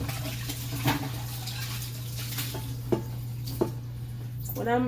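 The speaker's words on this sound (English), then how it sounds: "So I'm gonna rinse out the pot, the same pot" Clanking of a metal pot being handled and rinsed, with a few sharp knocks and a brief splash of running water over a steady low hum.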